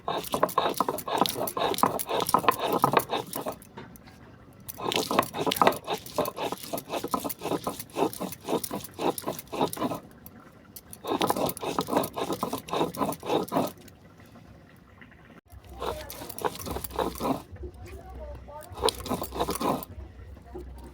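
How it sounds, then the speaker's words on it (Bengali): Peanuts and one other ingredient are ground together into a paste in a mixer grinder, the motor whirring and rattling in four bursts of several seconds, separated by short quiet pauses. "এই দুটোকে আমি একসঙ্গে বেটে নেব"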